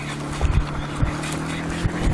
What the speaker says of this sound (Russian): Вон на моторке херачит.